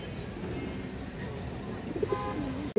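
A red Chulli hen pigeon coos softly a few times close by, low murmuring coos over steady background noise, with a voice speaking faintly in the background.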